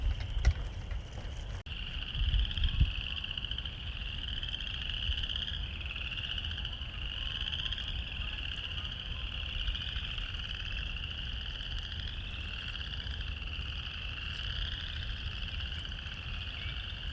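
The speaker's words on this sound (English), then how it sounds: "Listen to those frogs." Frogs croak and trill in a dense, continuous chorus across an outdoor conservation area on a brisk day, the rhythmic pulsing calls steady and moderately close over a low rumble of background noise.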